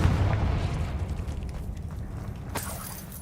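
A spell explosion from the video game Hogwarts Legacy: a deep, rumbling boom that fades slowly, with a brief crackling burst near the end.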